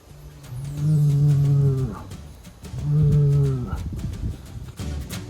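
A large angry bull and a herd of cattle on a farm pasture, with two long, loud, deep moos close by, separated by a short gap and trailed by quieter herd sounds.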